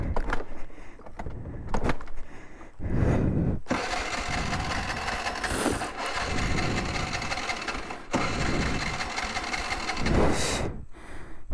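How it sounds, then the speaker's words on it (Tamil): A motorbike engine is cranked repeatedly but fails to catch, making long, loud, whirring starter bursts separated by short breaks, heard up close without speech. "காலையில் வேலைக்கு போகணும்னு பார்த்தா வண்டி ஸ்டார்ட் ஆக மாட்டேங்குது"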